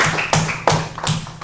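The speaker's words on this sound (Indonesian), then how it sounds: "kasih tepuk tangan untuk kelompok 2" A small audience at a teacher-training performance session claps for a student group's presentation, giving four sharp, evenly spaced bursts of handclaps over a brief moment.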